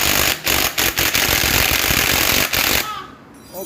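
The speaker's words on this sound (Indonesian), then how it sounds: "kita baut ya, kita baut. Kita kencengke dari bautnya." Bolts being tightened on a motorcycle magneto and pickup, giving a loud, near, steady rattling buzz like a power or impact tool, broken by brief gaps, that fades out in the final second.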